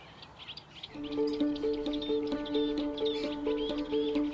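Small wetland birds, warblers among them, sing a busy chorus of bright chirps and trills, with a steady repeating call running through the middle, moderately close and with no one talking.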